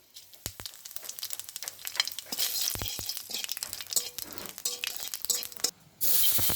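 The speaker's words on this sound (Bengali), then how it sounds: "আমি একটু তেল দিয়ে দিচ্ছি কড়াইতে। আমি শুকনো ঝালার তেজপাতা দিয়ে দিচ্ছি, তার মধ্যে দুটো জিরে" Bay leaves and cumin seeds drop into hot oil in a wok, bursting into a crackling, spitting sizzle with sharp pops that builds and then surges into a louder hiss near the end.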